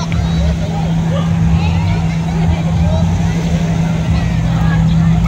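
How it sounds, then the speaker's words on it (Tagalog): Engine running at a steady idle, a loud continuous hum with rough low rumble close by, while people talk over it. "Ayun na yung makina natin guys."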